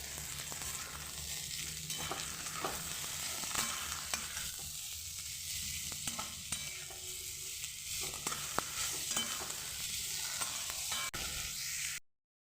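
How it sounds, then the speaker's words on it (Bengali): Potatoes frying in a pan with salt and turmeric powder, giving a steady, close sizzle that holds evenly throughout with faint scraping of stirring and no voices. "আলুগুলো পাঁচ থেকে সাত মিনিট আমি ভেজে নিয়েছি"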